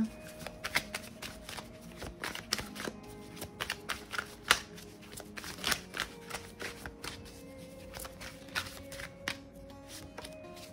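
A Tarot de Marseille deck shuffled by hand, giving a steady run of soft riffling and tapping card sounds close by, with no talk.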